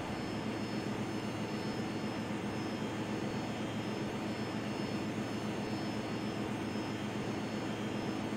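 A Boeing 757-200F jet engine starts in the Prepar3D flight simulator, heard as a steady, even, broadband roar with no change in level and no voices.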